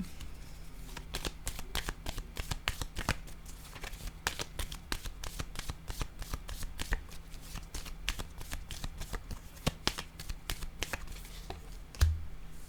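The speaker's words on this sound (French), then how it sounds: "Je vais déposer une carte maintenant sur l'harmonie" Tarot cards are shuffled close up, a quick run of crisp riffling flicks and soft slaps before a card is laid down with a dull tap near the end. No one speaks.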